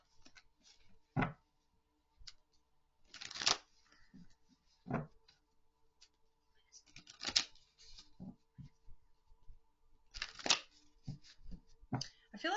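Tarot cards are handled and shuffled in short, quiet riffling bursts separated by near-silent pauses, close and faint, with light taps and shuffles scattered throughout.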